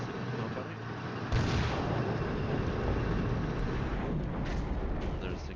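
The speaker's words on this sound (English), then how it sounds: "There's again artillery bombardment at our positions" Artillery bombardment in the wargame Flashpoint Campaigns: Southern Storm, a loud, dense, continuous rumble of shelling that swells sharply after a moment and rolls on without pause.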